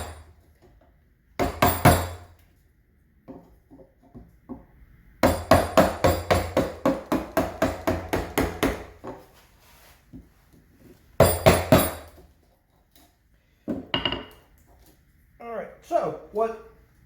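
A hand gouge strikes into a wooden spoon being carved with hand tools. Sharp knocking strokes come in short clusters and then in one long rapid run, close and crisp, with brief speech between them.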